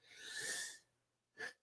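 A single sneeze, near and fairly loud, bursting out with a breathy hiss for most of a second, then a short sharp second snort-like burst after a brief pause, with no talk over it.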